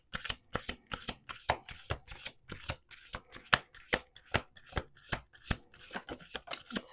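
Playing cards being shuffled in quick, regular riffling bursts, each a crisp flutter, close up and quiet with no talking.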